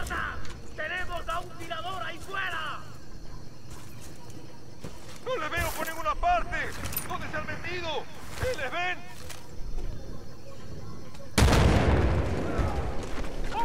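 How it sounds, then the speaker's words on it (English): A grenade blast in Battlefield Bad Company bursts loudly and suddenly near the end. Before it, scattered game noises and a person talking fill the clip, and the explosion's rumble trails off afterward. "I'm throwing a grenade in there."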